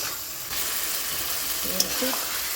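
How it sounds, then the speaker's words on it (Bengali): Potatoes, curd and spices are stirred in a hot pan for a Bengali egg curry, making a steady close sizzling hiss with a single light metallic clink partway through and no voices. "আবার ভালো করে নাড়াচাড়া করে আলুগুলো মশলা দিয়ে নাড়াচাড়া করে মিশিয়ে দিয়ে"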